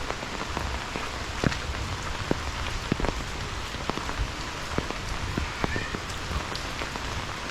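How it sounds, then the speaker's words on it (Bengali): Heavy rain falls steadily on a green paddy field in Kamdebbari village, a dense close hiss with scattered sharper drop impacts throughout and no talking. "খুবই সুন্দর বৃষ্টি পড়ছে"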